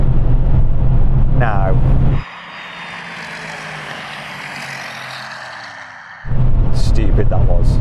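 A Porsche Cayenne Turbo in a drag race roars loudly under hard acceleration, falls to a quieter, thinner drone through a gear change of about four seconds, then surges back to full volume. A voice talks over it.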